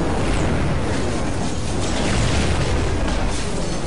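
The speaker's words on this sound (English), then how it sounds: "I'm grenading these guys. Grenades everywhere." Grenade explosions in the video game Marvel Heroes form a loud, continuous blast-like roar that fills the whole stretch without a break, dense and distorted, with no distinct individual bangs and no voices.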